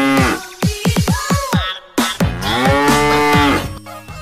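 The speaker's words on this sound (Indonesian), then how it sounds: "Lalu selanjutnya ada sapi jumbo." A large jumbo cow moos loudly and close by, a few long bellowing calls in a row, rising and falling in pitch.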